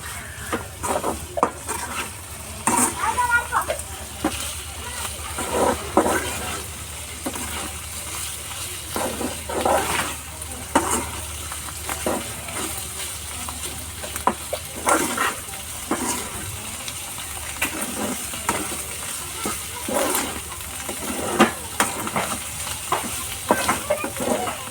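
Clam meat sizzles and fries in a pan while a utensil stirs and scrapes it in irregular bursts, close and fairly loud over a constant hiss.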